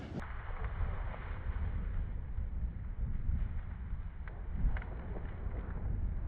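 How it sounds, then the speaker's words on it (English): Wind blows outdoors in open country during a hunt, a steady low rumble of gusts buffeting the microphone with a few faint knocks, no talking. "Ooh, it's windy."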